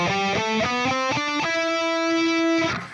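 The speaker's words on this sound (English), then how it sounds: "So E Phrygian would be the same scale, but start on E." Overdriven electric guitar runs up the E Phrygian scale in a steady series of picked notes, then holds the last one ringing for over a second before it cuts off; loud and alone, no talk.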